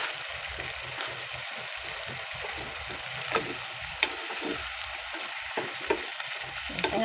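Adobo na sitaw (string beans) stir-fried with soy sauce and black pepper in a pan, giving a steady broadband sizzle with a few sharp spatula scrapes and clicks, close and continuous, no talking.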